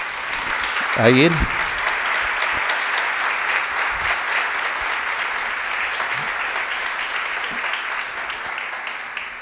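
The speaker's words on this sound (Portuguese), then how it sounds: "Dê para Jesus uma salva de palmas." A church congregation breaks into sustained applause, a dense steady wash of clapping that continues throughout, while a voice briefly calls out over it near the start.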